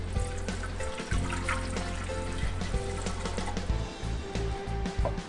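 Warm water pouring into a bread machine pan for pizza dough, a close, steady splashing trickle with small bursts and gurgles that keeps going for several seconds.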